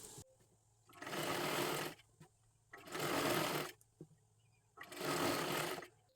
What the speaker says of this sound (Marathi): व्यवस्थित शिलाई सुद्धा मारून घ्यायची आहे